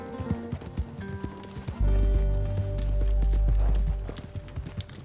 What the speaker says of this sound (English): Now this is one of those big horses.